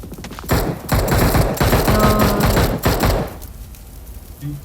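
Video game gunfire in a team shooter match, rapid bursts of automatic shots fired in close succession, loud and near, then dropping off into quiet near the end.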